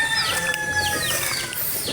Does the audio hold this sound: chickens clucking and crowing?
yes